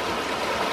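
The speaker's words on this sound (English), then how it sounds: "So this is where the clear spring water is." Clear spring water flowing in a ravine stream near Sacromonte, Uruguay: a close, loud, continuous rushing babble with no voices over it.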